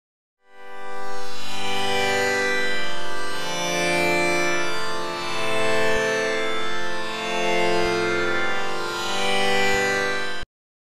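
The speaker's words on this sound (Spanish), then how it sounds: "aquí he cargado, como podéis ver, un preset de Operator" An Ableton Operator synth pad preset swells in softly and sustains a rich, warm chord that slowly rises and falls in level for about ten seconds before cutting off abruptly.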